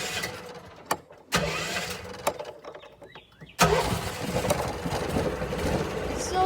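A golf cart engine, just repaired for an exhaust leak, cranks in short bursts, then catches and settles into a steady, fairly loud mid-pitched running rumble close by.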